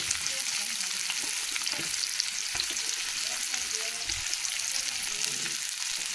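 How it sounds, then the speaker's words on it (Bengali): Chopped onion frying in hot oil in a kadai for a small-fish and green mango dish, a steady close hiss of sizzling with a few soft clicks, no talking. "এখন পেঁয়াজটাকে কড়াইয়ের মধ্যে দিয়ে দেবো।"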